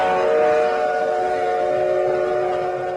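A train sounds a sustained horn-like whistle, its steady tones held throughout at moderate loudness and slowly fading toward the end, with no talk over it.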